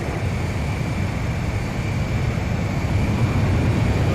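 Jet fighter engine in Ace Combat 5, a steady, loud roaring whoosh with a broad rumbling low end, constant and unbroken throughout, no voices over it.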